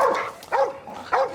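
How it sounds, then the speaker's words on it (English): A dog gives three barks in an even rhythm, close and clear, each a short tonal yelp with a slight whine to it. "It's a cute dog."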